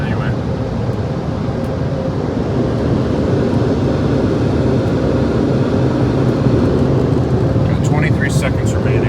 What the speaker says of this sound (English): Got some Bellinger dryers here, so let's see if they do a pretty good Bellinger job